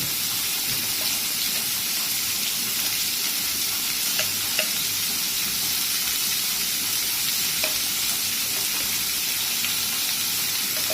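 Pumpkin curry sizzles steadily in a pan with turmeric just added, a continuous close frying hiss with faint stirring clicks throughout and no talking.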